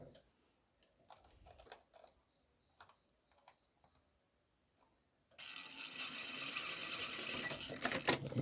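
A sewing machine finishing a hem on a skirt. Soft clicks and short bursts come first, then after a pause the machine runs in a dense, steady whirring rattle that grows louder toward the end.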